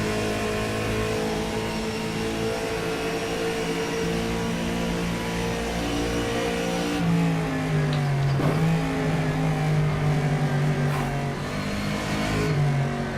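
A race car engine in the rFactor 2 driving game hums steadily, then the throttle lifts and reapplies so the revs dip and climb again in a sweeping whine, loud and close with no talking.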